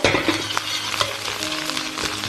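Scallop and egg-white fried rice with scallions stir-fried over high heat in a wok, a steady loud sizzle broken by repeated scraping and tossing strokes of the spatula, with no talking.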